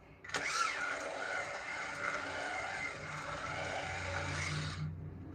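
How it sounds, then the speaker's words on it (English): A pencil sharpener grinds a pencil in one continuous, fairly loud whirring burst lasting several seconds, then stops abruptly. "I need to sharpen, so sorry for the noise."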